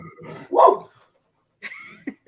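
A dog barks in a few short bursts, close and fairly loud, with a brief whimpering yip between them and no talking over it.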